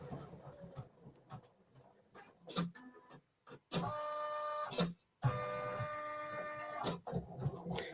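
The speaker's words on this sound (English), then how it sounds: "this embroidery machine is doing what it's supposed to be doing" An embroidery machine stitching, with rapid mechanical chattering in long bursts broken by short pauses and a few thumps; no one speaks.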